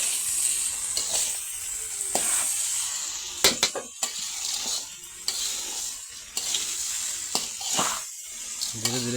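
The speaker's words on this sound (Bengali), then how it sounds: "এই মাংস আর চাউলগুলোকে খুব ভালো করে মিক্সার করে নেব" A pot of biryani meat and rice keeps sizzling steadily while a spoon stirs and scrapes through it, with occasional sharper metallic knocks, up close and with no voices.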